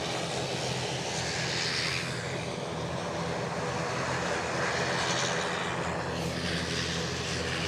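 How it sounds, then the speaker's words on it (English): A WestJet airliner departing Edinburgh Airport for Halifax, a loud continuous jet engine roar with whining tones rising and falling as it passes, heard alone without talk. "WestJet on the way out to Halifax"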